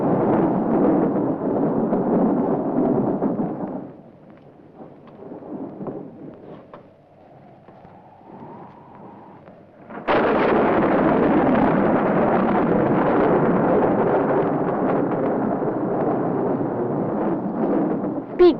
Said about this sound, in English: Oh, it's a storm.